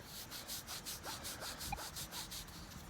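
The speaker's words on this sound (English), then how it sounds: "Why are you rubbing it?" A coin freshly dug while metal detecting at an 1820s house is rubbed clean by hand, a steady rhythmic scraping and rasping that repeats in even strokes, close and fairly soft with no speech.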